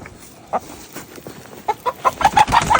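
Chicken clucking close by, a few scattered clucks at first, then a quick run of sharp repeated clucks toward the end.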